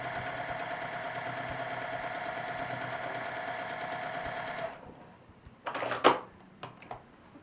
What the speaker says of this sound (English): let's stitch along this line